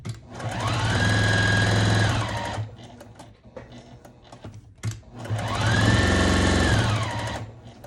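A sewing machine runs in two sustained bursts of steady motor whir, stitching around the edge of a rag quilt made of two fabric layers sandwiched with batting, with a short quiet pause between runs.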